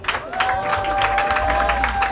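Audience applause fills a hall at an award ceremony, a steady, loud patter of many hands under a tonal hum, continuing unbroken throughout.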